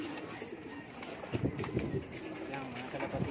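Pigeons cooing in a pigeon coop at feeding time, soft repeated low coos in short bursts close by, mixed with rustling and someone talking.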